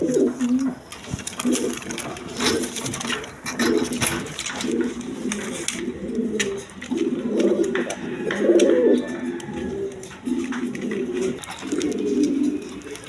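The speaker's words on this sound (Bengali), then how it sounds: "আর্মি কবুতর দেখেন, কোয়ালিটি সম্পন্ন কবুতর, আর্মি কবুতর, দুইটা বাচ্চা সহ নিতে পারবেন।" Army pigeons at a pigeon farm coo steadily in rounded, repeating bursts, several birds overlapping close by throughout with no pauses.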